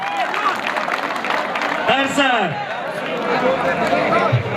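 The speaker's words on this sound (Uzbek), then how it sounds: "Bekor qarsak bo'lsin" Crowd at a Navruz village celebration applauding in a steady, dense patter of clapping, with voices and speech mixed in over the noise throughout.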